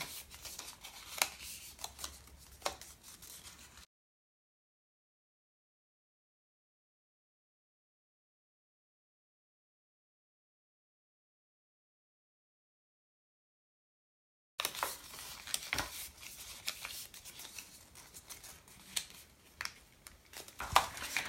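Paper being creased and folded for a handmade wreath, sped up, giving quick soft crinkles and rustles, close and quiet, with a long stretch of complete silence in the middle.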